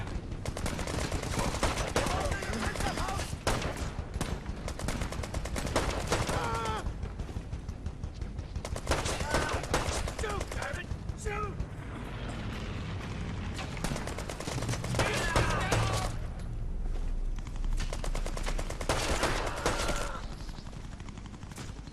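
Dense, sustained video game gunfire: rapid bursts and rattling shots layered over one another, loud and close, with brief lulls between volleys.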